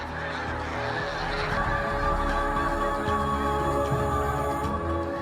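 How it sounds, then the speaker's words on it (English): A large flock of geese honks continuously, many overlapping calls forming a dense, steady clamor with no talking. "They form a blizzard of geese, impossible to target or see through."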